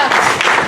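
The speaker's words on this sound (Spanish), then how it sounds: "Dale un aplauso a papá." A church congregation breaks into applause: dense, steady clapping from many hands that fills the short moment without pause.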